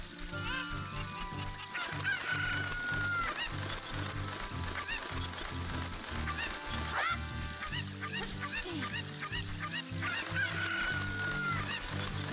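Chickens clucking and a rooster crowing in the video game The Legend of Zelda: Ocarina of Time: a dense, continuous flock chorus with repeated clucks and occasional crows over game music.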